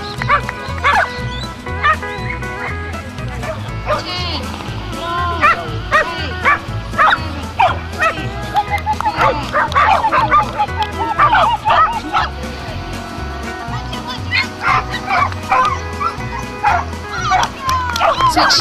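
Dogs yip, bark and whimper excitedly at a frisbee competition, with repeated short barks throughout under a steady crowd murmur and people talking nearby.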